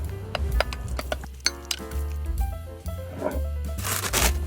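Mashed boiled egg is stirred with wholegrain mustard, Greek yogurt, salt and pepper in a bowl, giving soft scraping and clinking utensil strokes against the dish, close and fairly quiet, with some background tones.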